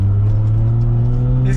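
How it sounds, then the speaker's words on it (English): Toyota Supra running on a straight-pipe exhaust with the under tray missing, a loud, steady low engine drone with strong rumbling harmonics, close and continuous throughout, with no voices over it. "This car is loud."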